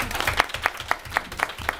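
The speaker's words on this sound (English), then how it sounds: "we are going to first give a round of applause for all of our students of the month" Scattered applause from a small audience at a board of education meeting honoring students of the month, uneven claps at a moderate level with no talking over them.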